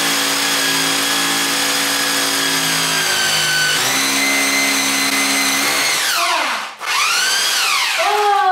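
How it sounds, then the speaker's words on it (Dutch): Power drill spinning while being lined up on a small hole during home furniture assembly, a loud steady whine that rises and falls in pitch, briefly stopping and then restarting near the end. "Het is altijd heel lastig om je boor precies op dat gaatje te krijgen."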